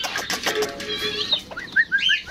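Backyard chickens cluck and chirp at feeding time in a pet yard, a few sharp rising calls breaking out over a quieter bed of softer fowl murmurs, close and fairly loud.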